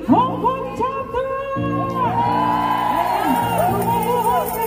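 A church congregation at the Hong Kong chapter's 36th anniversary service cheers and whoops loudly. Excited voices rise and overlap in a lively, sustained burst that stays close and full for the whole stretch.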